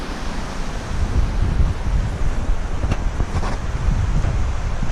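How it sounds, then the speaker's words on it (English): Wind roars steadily into an open microphone outdoors, a loud continuous rumble with gusty swells and no voices. "It's windy, look."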